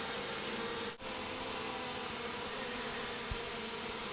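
Honey bees buzzing steadily around a weak hive infested with wax moth, a continuous close droning hum with a brief dip near the start and no talking.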